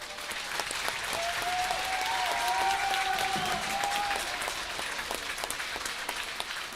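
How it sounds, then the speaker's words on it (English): Crowd applause for veterans and current military personnel at an MIAA game between MV and Littleton, a steady distant wash of clapping that lasts throughout, with a faint announcer's voice in the background. "I ask that you give them a nice round of applause"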